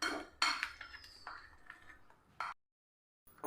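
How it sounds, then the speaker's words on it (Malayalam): A whisk clinks and taps against a bowl while mixing jackfruit batter for unniyappam, giving several sharp metallic strikes in an uneven rhythm before stopping abruptly into silence. "ഇതേപോലെ ഒരു വിസ്ക് വെച്ച് നമുക്കൊന്ന്"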